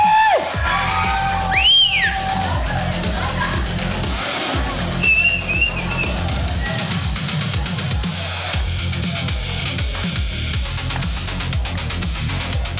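Loud, steady crowd roar with whistles and shouts at a fight league event, continuous cheering filling the whole stretch, a sliding whistle-like tone near the start, and voices mixed in.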